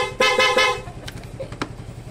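Three quick, loud beeps from a Yamaha Fazzio scooter horn in a rapid row, followed by softer clicks and mechanical noise.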